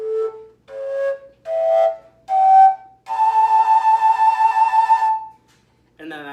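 A fujara, a long Slovak overtone flute, climbs a few short breathy notes into its upper octave overtone scale, then holds one long, steady, airy tone before a brief final phrase. It is played solo and close.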